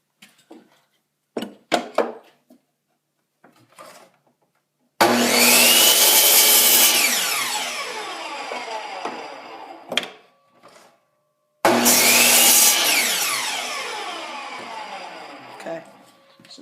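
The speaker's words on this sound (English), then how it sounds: "I'm going to trim it on the miter saw a little bit" A miter saw trims a length of wood in two loud, close cuts, each starting abruptly with a whining spin-up and then slowly winding down. Scattered knocks and handling clatter come before and between the cuts.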